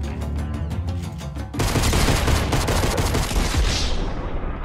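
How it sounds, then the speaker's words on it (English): Shotgun fire rings out in a video game, first as a quick run of rhythmic blasts, then as a dense, loud burst of overlapping gunfire with booming echoes that tails off. No one talks. "Okay, he had a shotgun."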